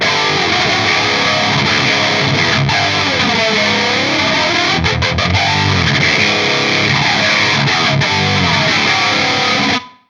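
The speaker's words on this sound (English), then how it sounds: "Let's try this flanger." Electric guitar played through a flanger modulation effect on a Genome 2.0 amp capture unit, a dense, distorted sweeping tone sustained for about ten seconds before cutting off abruptly.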